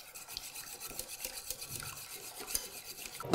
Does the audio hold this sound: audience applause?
no